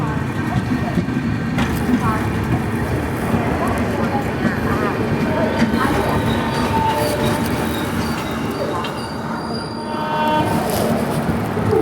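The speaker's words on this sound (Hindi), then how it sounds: "जलगांव जंक्शन पे हमारी ट्रेन की क्रॉसिंग हो रही है पनवेल गोरखपुर एक्सप्रेस के साथ" Vidarbha Express standing at Jalgaon Junction as the Panvel Gorakhpur Express passes alongside, a loud continuous rumble of wheels and clattering wagons with faint squeals, heard from inside the train with voices around.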